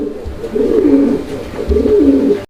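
A young Mundian pigeon coos twice in a close, loud, throaty rolling call, each phrase rising and falling.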